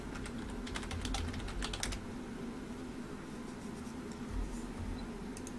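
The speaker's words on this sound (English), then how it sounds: "There I go, typing push wrong again." Rapid clicking of a computer keyboard, dense bursts of keystrokes for the first two seconds then sparser taps over low room hum, close and moderately quiet with no talking.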